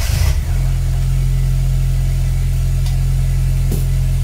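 A classic Mini's engine cranks and catches, then settles into a loud, steady, close-up idle with a couple of light blips of the throttle.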